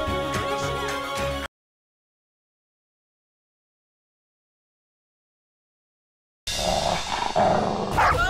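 A dog growls and barks in a Hindi television drama scene, in two loud bursts at the start and end separated by several seconds of complete silence.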